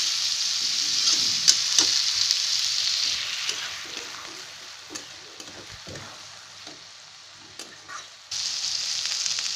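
A semolina upma mixture roasts briefly in a pan with frozen butter, giving a steady hissing sizzle with intermittent scrapes and taps of stirring that dips quieter midway, then swells again at the end.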